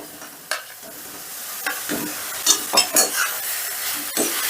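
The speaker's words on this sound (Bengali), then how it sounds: "এবারে মশলার সাথে আলুটাকেও আমি বেশ কিছুক্ষণ ভেজে নেব" Fried potato pieces tossed with thick masala in a pan for a soybean do-pyaza, sizzling steadily with a series of close stirring scrapes and clinks of the spatula, no voices.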